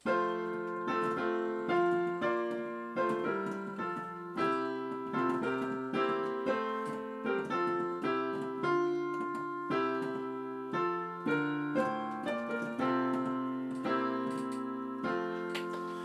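A stately anthem-like melody played by an ensemble, steady chords moving in even phrases, moderately soft and continuous with no voices.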